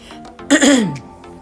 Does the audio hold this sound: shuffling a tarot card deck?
no